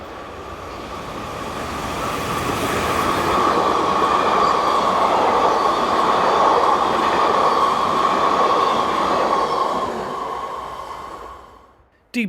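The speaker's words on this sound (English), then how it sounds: "Another Class 186 hired in is number 2809." A DB Class 186 electric locomotive hauling a train passes close by, with a loud steady rumble and a humming whine, rail noise rising to a sustained peak before fading near the end.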